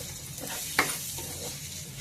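Ghee sizzling in a pan of biryani as it is stirred, a constant frying hiss with a single sharp scrape midway.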